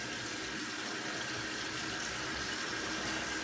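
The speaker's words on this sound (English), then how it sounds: "I'm currently washing the bleach out of the hair" Tap water runs steadily into a sink, rinsing bleach out of a ginger wig's hair, a constant close, broadband rushing hiss with no break and no voices.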